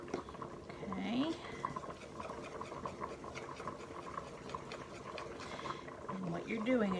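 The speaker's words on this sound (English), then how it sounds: "Now this is cold milk and you're wanting to stir that into the flour." Cold milk is stirred into flour in a pot for ham and corn chowder, giving a steady wet scraping and swirling that runs throughout, with a voice talking over parts of it.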